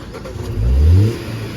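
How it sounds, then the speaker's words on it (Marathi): A car engine turns over and catches, then revs up to a brief loud swell before settling back to a steady idle, heard close and alone without talk. "आरामात गाडी झाली चालू."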